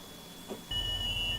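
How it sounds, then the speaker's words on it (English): A train alarm in Train Simulator's Class 395 cab starts abruptly partway through as a steady, high electronic beep tone over a loud low rumble and continues to the end. "That's the alarm that was sounding earlier on."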